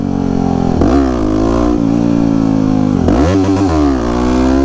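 A supermoto motorcycle engine pulls hard in second gear during wheelie practice, rising in pitch twice through loud revving strokes with a short dip and re-acceleration between them, close to the recording point.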